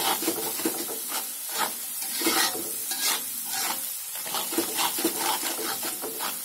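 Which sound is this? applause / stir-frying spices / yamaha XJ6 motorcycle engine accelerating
stir-frying spices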